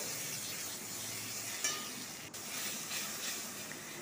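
Ground poppy seed paste, stone-ground on a shil nora, sizzles steadily in a pan as a little water goes in. A soft clink sounds partway through, and the frying hiss continues close by with no talking.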